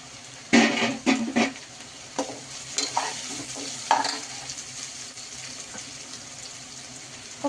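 Curry leaves dropped into hot oil for a rice pilaf, giving bursts of crackling sizzle and stirring clatter early on that settle into a steady, moderate frying hiss.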